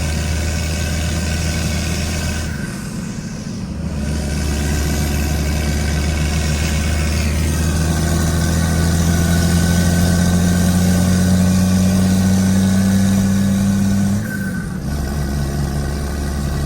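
A second-generation Cummins diesel pickup engine idles steadily, a loud, continuous low rumble that holds for most of the stretch, dipping briefly twice as if the throttle shifts or something momentarily interrupts, with no talking over it.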